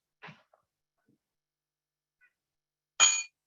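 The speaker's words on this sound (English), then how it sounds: "listen for the sound of the bell to draw attention inward" A meditation bell struck once near the end, a bright metallic ring that decays quickly, after a short quiet stretch with a faint earlier click.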